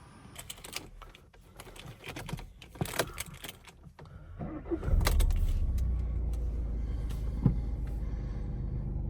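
A 2014 VW Golf 1.6 with DSG gearbox is started: faint clicks and rattles inside the car give way to the engine catching and settling into a steady low idle.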